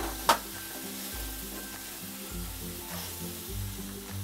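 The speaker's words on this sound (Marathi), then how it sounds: "1-2 मिनटं मी चांगले मक्याचे दाणे असे मसाल्यामध्ये हलवून जरा भाजून घेतलेले" Corn kernels roast in masala, their steady close sizzle broken by the scrape and clatter of stirring and one sharp knock near the start. No one speaks.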